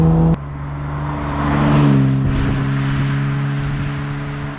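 A 1953 Aston Martin DB2 Vantage Drophead Coupé with its high-output engine drives along, giving a loud, steady engine drone that briefly swells as it pulls, then settles into an even hum.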